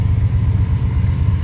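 A cold 1979 Chrysler New Yorker 5th Ave engine runs rough after sitting, a steady, loud low idle rumble with an uneven pulsing throb throughout.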